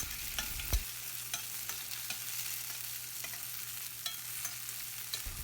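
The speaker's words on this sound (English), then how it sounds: "Fry onion and garlic for minimum 2 minutes or until it turns light brown" Onion and garlic fry in a pan with a continuous soft sizzle, punctuated by occasional light taps and scrapes of stirring, close and steady with no voices.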